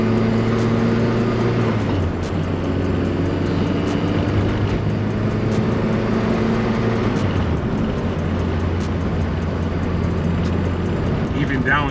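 A Honda Civic engine drones steadily and loudly from inside the car as it accelerates, with pitch shifts marking downshifts into third, under continuous cabin noise.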